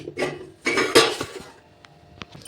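A metal thali plate is lifted and handled, giving a couple of bright clattering clanks followed by a few small faint clinks, close and without speech.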